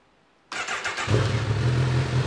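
A Honda CB1000R motorcycle fitted with a LeoVince accessory exhaust starts up abruptly and settles into a deep, steady idle, loud and close, with no one speaking.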